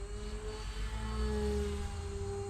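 Volantex Trainstar Epoch RC plane's electric motor and propeller running wide open, a steady loud whine with a strong drone, continuous and close throughout.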